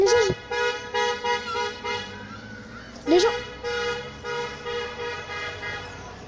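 Car horns honking in a street celebration of an Algerian win, several horns tooting in repeated bursts at varied distances, with a loud nearby blast near the middle over steady traffic noise.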